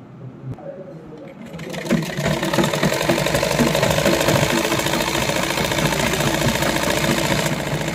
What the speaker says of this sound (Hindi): तो चलिए सिलते हैं इसके क्रोच एरिया को